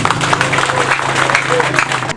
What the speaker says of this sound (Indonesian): Tepuk tangan dulu untuk Ibu Kati.